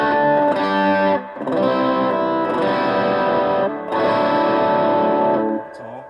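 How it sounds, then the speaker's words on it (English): An electric guitar through a Mesa Rectoverb 25 combo amp plays sustained, distorted chords in three strummed phrases with short gaps, a washy reverb tail ringing after each. "Let's try the reverb out."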